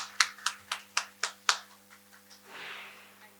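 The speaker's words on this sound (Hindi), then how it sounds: "तो मैं आपको तालियों के साथ स्वागत करती हूं" Audience applause for a speaker at a Hindi literary gathering, heard as about six distinct sharp claps at a steady pace, then a softer brief rustle.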